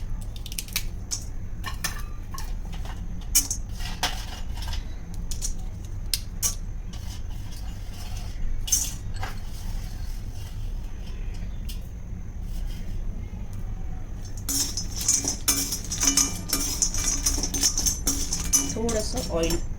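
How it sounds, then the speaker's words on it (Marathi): Stirring cinnamon and turmeric as they roast with a little oil in an iron kadai over medium-high heat, giving steady light scraping and clinking of a spoon against the pan that grows busier near the end, under talk. "दालचिनी पण त्याच्याबरोबर परतून घेते हळदीबरोबर"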